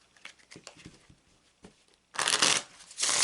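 A deck of Gypsy Witch fortune-telling cards is shuffled at close range: soft scattered taps and flicks first, then two loud riffling bursts near the end.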